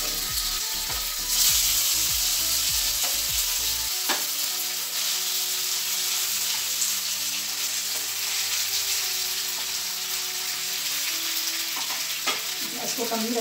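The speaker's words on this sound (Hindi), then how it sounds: "इसको मैं हल्के हल्के हाथों से फ्राई करूंगी" Chana dal fara fry in a pan with a loud, continuous sizzle; a quick run of rhythmic spatula taps opens the sequence before the frying hiss carries on alone.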